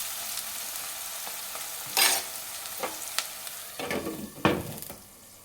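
Onions frying for carrot curry in a pan, with quiet sizzling and a few louder clattering stirs and lid knocks, no voices.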